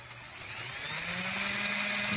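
The new motor of a Gerard Morin pump with speed control spins at high RPM, giving a steady, close whine that climbs slightly in pitch over two seconds.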